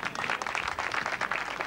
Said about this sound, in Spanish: me gustaría dar un fuerte, fuerte aplauso para Vicente y todo su club.